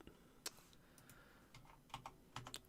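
A computer keyboard being typed on at a desk: several quiet, sharp key clicks in an uneven burst, close but soft, with a few quick presses clustered near the end.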